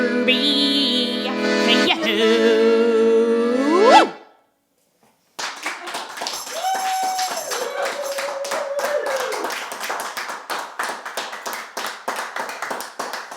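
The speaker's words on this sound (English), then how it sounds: "Let's give her another round of applause." Audience applause follows a live song performance on a music show: a singer's tune ends, a short silence follows, then steady hand clapping runs for about eight seconds, with a brief held tone partway through.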